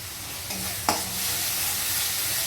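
Spices for a fish curry stirred in a hot pan: a steady close sizzle with one quick scrape of the spoon partway through, and no voices.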